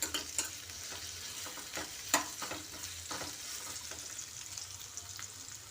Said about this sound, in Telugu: సొరకాయ ముక్కలను ఫ్రై చేద్దాం. మంచిగా వేగాలండి సొరకాయ ముక్కలు.